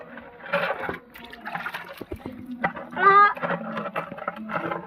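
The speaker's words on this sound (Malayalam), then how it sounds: "ഇതിലോട്ട് വെള്ളം ഒഴിക്കുകയാണ്" Water is poured into a guppy fish tank in uneven, splashy gurgling bursts, close and fairly loud, with brief pauses between pours and faint background noises.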